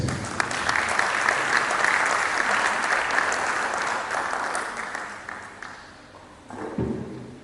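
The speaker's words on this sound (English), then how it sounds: "Please, another round of applause" University audience in Ibadan applauding a speaker, a dense sustained round of clapping that gradually fades, followed by a couple of thumps and a short voice near the end.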